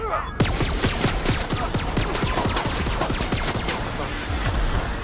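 Sustained automatic gunfire in The Outer Worlds, a loud, close, continuous burst of rapid evenly spaced shots that runs almost unbroken for several seconds after a brief quieter opening.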